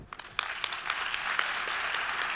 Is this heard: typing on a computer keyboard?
no